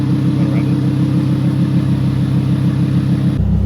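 A car engine runs steadily at idle inside the vehicle, a close, continuous low rumble that makes the car shake. It cuts to a lower hum near the end.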